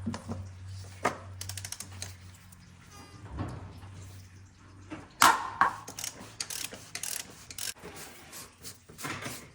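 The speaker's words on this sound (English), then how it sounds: "Now I'm using a 36mm socket to open it up." A ratchet turning a 36mm socket loosens the oil filter housing on a 2005-2011 Audi A6 (C6), giving close, irregular mechanical clicks and ratcheting bursts with occasional louder clanks.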